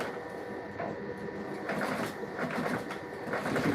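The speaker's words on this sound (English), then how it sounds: "stitching is going on well" A sewing machine stitches material in a shoemaking workshop, running as a steady rapid mechanical whir and rattle that grows slightly louder toward the end, close by and with no talk.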